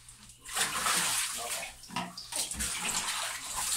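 Water splashes and pours continuously as a cat is bathed and soaped in a tub, the broad wash of water steady and close throughout, with a person talking softly over it.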